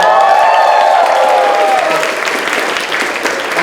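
Enthusiastic audience applause at a spring fashion show, dense clapping filling the hall with some cheering, loud at first and tapering slightly while a voice carries over it.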